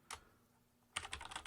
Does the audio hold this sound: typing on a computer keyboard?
yes